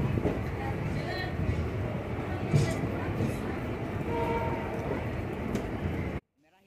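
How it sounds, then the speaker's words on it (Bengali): The Santragachi SF Express pulls away from Santragachi station toward Kharagpur, with a steady low rumble and rolling wheel noise heard from inside the carriage and a few faint clanks, and the sound cuts off abruptly near the end. "আমাদের ট্রেন এখন গুটি গুটি চাকা নিয়ে খড়গপুরের রাস্তায় এগিয়ে চলেছে"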